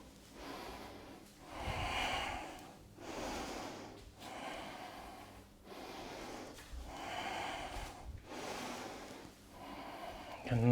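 Heavy, rhythmic breathing through the nose during an at-home bodyweight strength workout. About six long, close, audible inhale-and-exhale cycles follow one another, with no speech.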